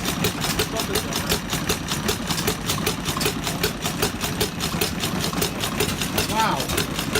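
An antique stationary engine built from a converted air compressor runs steadily at an engine show in Granby, Connecticut, with a rapid, even firing beat throughout and voices faintly in the background.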